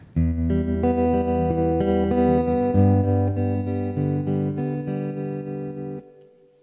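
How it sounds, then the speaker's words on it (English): An acoustic guitar with added reverb plays a run of strummed chords that ring on for about six seconds, then stops and leaves a short fading tail. "Bit more reverb on the guitar."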